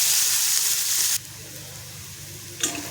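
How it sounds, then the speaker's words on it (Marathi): Chopped onion and chilli sautéing in oil, a strong close sizzle at first that drops to a quieter steady hiss, with a brief louder burst near the end. "कांद्याचा वापर भरपूर करायचा आहे आणि आपल्याला तेलावरती परतून घ्यायचं"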